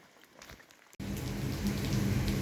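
Moderate, steady rain falling for most of the clip, starting abruptly about a second in after a quieter stretch, with a dense hiss of drops landing close by.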